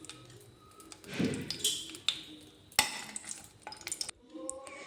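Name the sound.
dried red chillies tempering in hot mustard oil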